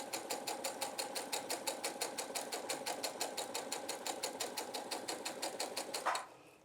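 A sewing machine stitches a straight run down through washaway stabilizer, its needle beating in a fast, even rhythm for about six seconds before stopping abruptly.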